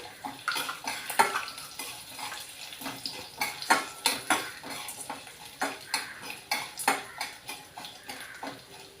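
A few dry red chillies, cut up, frying in a pan while being stirred, with repeated sharp metallic scrapes and clinks of a spoon against the pan over a soft sizzle, close and fairly quiet.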